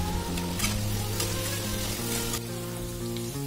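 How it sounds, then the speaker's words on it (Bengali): Potatoes frying in oil seasoned with turmeric and salt for a Bengali potol chingri dish, a steady close crackling sizzle with occasional stirring, no talking. "এবার আমি পটল ভাজা তেলের মধ্যেই আলুগুলো দিয়ে ফ্রাই করে নেব।"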